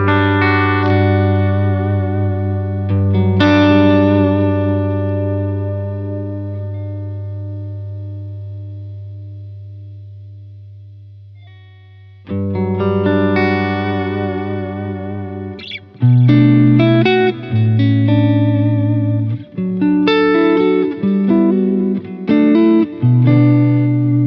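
An electric guitar played through a modelled PRS Archon amp in a Helix unit, with sustained distorted chords ringing out and decaying, then choppy palm-muted riffing and bursts of loud high-gain playing.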